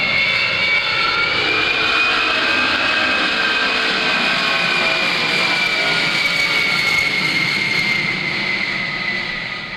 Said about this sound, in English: Now, as he adds full power and climbs away, he'll retract the landing gear.